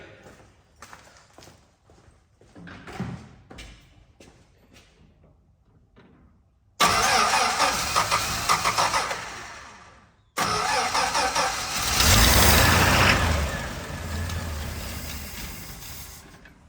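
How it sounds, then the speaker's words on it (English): A Dodge truck's 245 Hemi six engine cranks with a few quiet turns, then catches and fires into a loud rough idle, cuts out briefly, and restarts to run steadily and close. "typical Hemi 6 just cranks right up"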